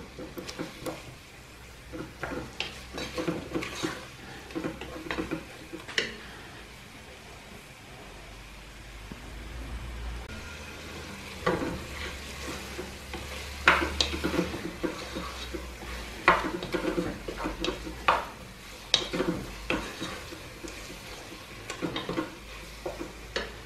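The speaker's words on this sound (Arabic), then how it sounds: "غادي نخلط هادشي، نخلي اللحم يتشرب شويه العطريه" Meat and spices get stirred in a pot, with scraping and clinking utensil strokes coming in irregular bursts over a soft sizzle. There is no talking.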